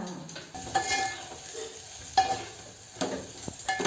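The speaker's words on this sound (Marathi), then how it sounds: "चवळी बटाटे फोडणीला टाकते." Cowpeas and potatoes dropped into hot oil tempering crackle and sizzle in a home kitchen, with bursts of stirring and spattering across a few seconds, fairly close.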